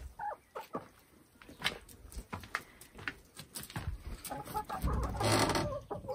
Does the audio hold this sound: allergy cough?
no